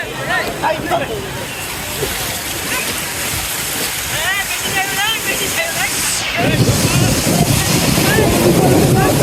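Ocean waves wash and rush on Laboni Beach at Cox's Bazar, Bangladesh, under ongoing talk, the surf surging louder toward the end.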